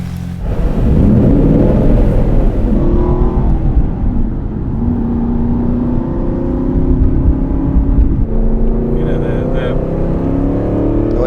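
Aston Martin V8 Vantage engine pulling hard with a throaty roar, the revs climbing and holding steady close by, interrupted by a brief shift before it builds again, with people talking over it.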